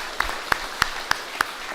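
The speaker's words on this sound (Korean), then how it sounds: "박수하겠습니다." A congregation claps during a Sunday church service after an ensemble hymn. Five sharp, evenly spaced claps ring out at a steady pace over a quiet room.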